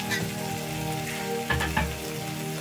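Spinach fries in pure ghee with a soft, steady sizzle and a couple of brief stirring scrapes in the middle, fairly quiet and close, with no speech.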